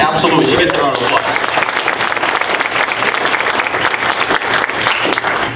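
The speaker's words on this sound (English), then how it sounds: "Yeah, absolutely, she gets their own applause." An audience applauds a student named Rachel at a high school event, steady dense clapping filling the whole stretch with a faint murmur of voices mixed in.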